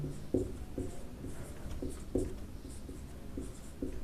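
Chalk or marker writing on a board during a mathematical physics lecture: faint, irregular scratchy strokes and taps in quick succession, with no talk over them.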